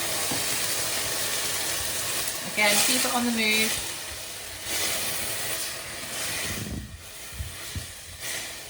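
Broccoli steaming and sizzling in a hot wok just after a splash of water during a vegetable stir-fry, a steady hiss with stirring clatter, a voice talking over it.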